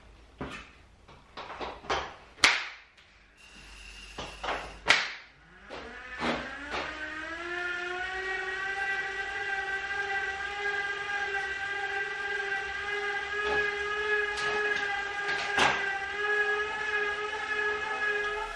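A Wahoo KICKR smart trainer running on a bare floor with no mat: a few loud clunks and clicks, then a tonal whine that rises as the flywheel spins up and settles into a steady, close drone.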